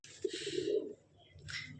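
A single low, throaty coo from a Rajshahi Giribaz flying pigeon rolls out up close, followed by a brief rustle, in an otherwise quiet space.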